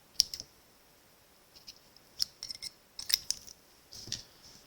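Scissors cut through card stock in short, crisp snips and clicks, a few quick clusters of sharp, close sounds separated by brief quiet pauses.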